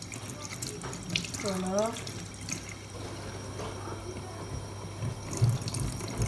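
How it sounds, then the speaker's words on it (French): Paintbrushes rinsed under a running tap of hot water, a steady splashing stream filling a sink, with a brief squeaky tone early on and a person speaking briefly over it. "Du coup, là, on nettoie tous les pinceaux"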